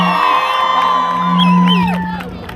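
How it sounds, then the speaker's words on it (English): A crowd at a Palestine protest in Manchester cheers and whoops in a loud burst of shouts and cries lasting a couple of seconds. "can we give a round of applause to Massa?"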